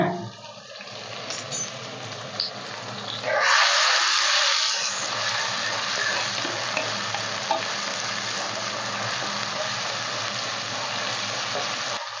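Onion and tomato sautéing in a pan for fish thokku, a steady close sizzle with stirring scrapes throughout, briefly louder around the middle, with no talk.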